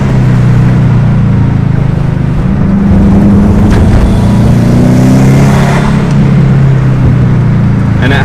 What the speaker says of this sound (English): it's got a really nice rumble to it.